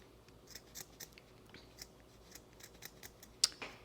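Scissors snip through a leftover sock while making gnome arms for a Dollar Tree Christmas craft. The quiet cuts come in a loose series, ending in one sharper, louder snip near the close.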